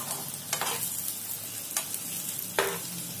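Stuffed green chillies cook in a pan with a soft, steady sizzle, broken by three brief scraping stirs spaced a second or so apart.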